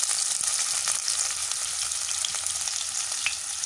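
Chopped onion frying in a pan with whole cumin, a constant crackling sizzle with light stirring scrapes, close and steady with no speech.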